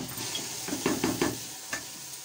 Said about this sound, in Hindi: नाज़रीन जो अब मिर्चें और लहसुन अदरक फ्राई हो चुका है तो हमें अब सब्ज़ी डालनी है।